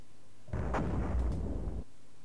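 Artillery fire from the Amiga game HistoryLine 1914-1918: a single booming shot bursts in abruptly and rumbles for about a second before cutting off, loud and alone.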